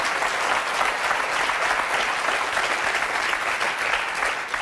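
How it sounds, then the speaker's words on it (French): A French television studio audience applauds, sustained, dense clapping from many hands at steady volume throughout. "je crois qu'on peut les applaudir"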